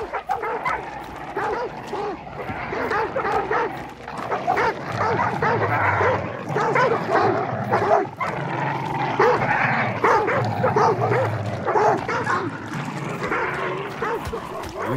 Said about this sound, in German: Wütender Hund.